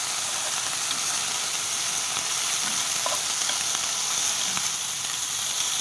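Bread grills in a hot pan while being turned for a club sandwich, giving a steady, loud sizzle and hiss that runs unbroken with a few faint scrapes.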